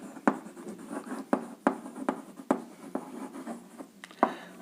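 Marker or chalk writing on a board during a chemistry lesson on compounds: a sequence of sharp scratchy strokes and taps at an uneven rhythm, close and fairly loud, with no talk over them.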